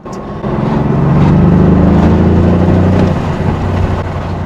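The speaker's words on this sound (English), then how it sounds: "I'll give you a little taster of the sound because the car sounds phenomenal." An Aston Martin V8 Vantage AMR engine revs up and holds a loud, deep, throaty roar for several seconds, then eases slightly; close and continuous.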